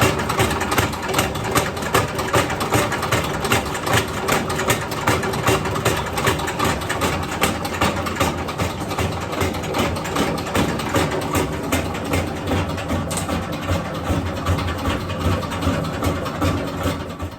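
A granulometry sieve shaker runs without pause while separating flour through stacked sieve plates, making a loud, continuous mechanical rumble and rattle with fast, regular jolting pulses and no talking.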